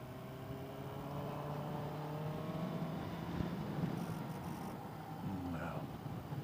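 Steady engine drone and road/wind roar from a 2020 Suzuki GSX-S750 motorcycle cruising at low revs, with a shift down to third gear; a continuous moderate rumble with faint harmonic engine tones throughout.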